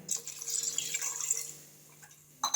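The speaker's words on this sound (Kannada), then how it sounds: "ಈಗ ಅದಕ್ಕೆ ಈಗ ನೀರು ಹಾಕೊಳ್ತಾ ಇದ್ದೀನಿ" Water splashes and trickles briefly into a pot of kokum rinds with jaggery, a soft pouring hiss that fades out, followed by a short clatter at the end.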